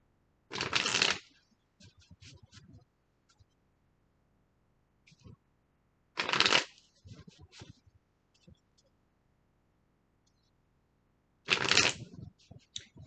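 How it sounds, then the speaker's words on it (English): Tarot cards are shuffled in three short, crisp riffling bursts spaced several seconds apart, close and clear, with quiet handling sounds and soft movement between them. "Let's pull some cards here."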